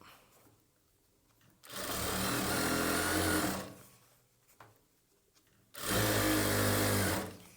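Sewing machine stitching a churidar bottom, two loud close bursts of fast whirring stitching, each a couple of seconds long, separated by a quiet gap.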